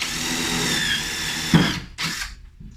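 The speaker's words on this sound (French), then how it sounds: "Ensuite, à l'endos comme ça, je perce" A power drill boring through the back of a kitchen cabinet module: a steady, close, loud whine that cuts off, then a short final burst of drilling.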